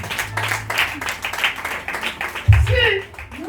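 A church congregation claps in scattered bursts under loud preaching. The clapping rises briefly near the end.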